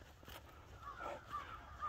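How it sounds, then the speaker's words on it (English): Crows caw in a Florida nature preserve near Dunnellon, several harsh calls from a middle distance over faint outdoor ambience. "On my way back, look at the birds. Can you hear them?"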